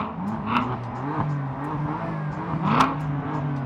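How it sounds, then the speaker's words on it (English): A Corvette and a BMW M4 idle and rev in short bursts, two sharp throttle blips rising and dropping over a steady rumbling drone, close by. "Let's rev them up, guys. Both of them, rev them up."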